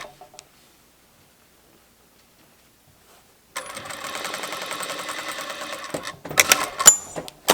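A sewing machine joins two bag fabric pieces with a one-centimetre seam margin, starting after a few seconds of silence into a steady, fast, close mechanical stitching rhythm, then ending in a few louder clunks and clicks.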